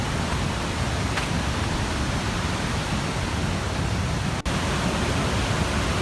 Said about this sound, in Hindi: बहुत ज़्यादा आवाज़ आया था झरना से, मतलब एकदम कल कल कल कल कल कल